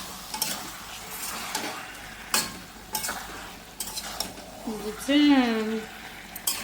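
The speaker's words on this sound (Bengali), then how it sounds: "এবার ভালো করে কষাতে হবে, চিকেন যত কষাবেন তত স্বাদ।" Chicken sautéing in a pan with green chillies, a loud sizzle under repeated scraping and clinking of a stirring spoon; someone speaks briefly over the cooking.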